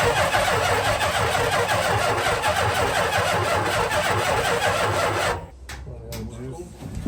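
A cold 1967 Dodge A100 van's 440 engine cranks loudly and steadily for about five seconds, then the starter cuts off, leaving quieter clicks and faint voices in the background.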